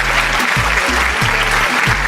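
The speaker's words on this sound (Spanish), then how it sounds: "le doy un fuerte aplauso" Steady, dense applause from a television talent-show audience, loud and continuous throughout, with a low rhythmic hum pulsing underneath.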